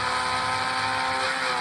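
Small toy car motor running at speed, a steady high-pitched electric whine held constant and close for a brief moment with no break.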